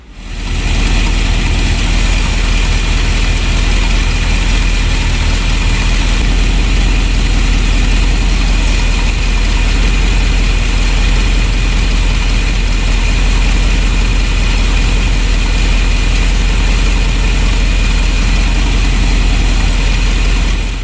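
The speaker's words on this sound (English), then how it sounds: "start the engine, and check it again" A 1964 Ford Thunderbird engine idling after an oil top-up, a loud, steady low rumble that runs continuously for about twenty seconds with no talk over it.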